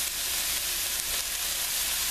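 Okra sautés with gumbo seasoning for a shrimp and crawfish gumbo, giving a bright, steady sizzle and hiss of frying, close and even, with no talk.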